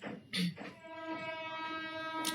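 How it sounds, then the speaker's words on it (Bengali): A train draws near, a sustained horn-like tone holding steady over a low rumble, with a brief louder burst early on. "ওই যে দেখো একটা ট্রেন চলে আসছে অলরেডি।"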